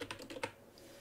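A short burst of computer keyboard typing, with a handful of quick close key clicks that fade into quiet room tone.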